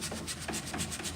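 A brush scrubs wax onto painted furniture in quick, soft, rhythmic rubbing strokes, close and fairly quiet, with no talking.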